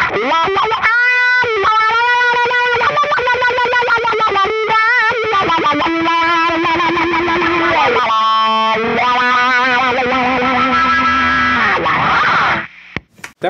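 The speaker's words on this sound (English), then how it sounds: "the wah pedal, but you do it really fast as you play" Distorted electric guitar plays a fast lead line, its tone sweeping rapidly with a wah pedal, loud and close, ending abruptly.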